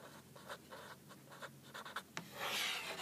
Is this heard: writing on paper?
yes